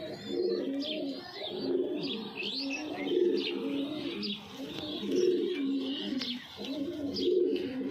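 Pigeons coo in rolling repeated phrases, close and steady, with light chirps and rustling around them and no voices.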